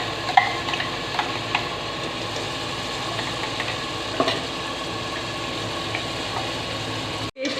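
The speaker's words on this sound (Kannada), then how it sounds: "ಪೇಸ್ಟನ್ನು ಸ್ವಲ್ಪ ಫ್ರೈ ಮಾಡ್ಕೊಳ್ಳೋಣ." Masala paste frying in a pressure cooker for a potato sambar, producing a loud, continuous sizzle with occasional faint spatula taps, ending in a brief cut.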